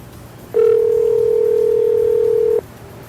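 A phone line emits a single steady dial tone lasting about two seconds, clear and alone against faint room noise, while a call is being placed.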